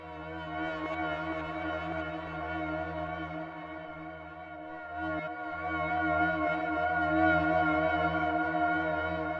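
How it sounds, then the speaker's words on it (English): Metallic sound processed through the Vintage Haze preset on a Meris Mercury X, a long droning, hazy wash of sustained metallic overtones with slow wavering swells, quiet and continuous, no voices. "First, I ran that metallic sound through the Vintage Haze preset on the Meris Mercury X"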